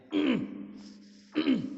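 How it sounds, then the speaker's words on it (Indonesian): Two deliberate throat clearings from a man, each a short gravelly rasp, separated by about a second of quiet with a faint low hum. "Itu dehem."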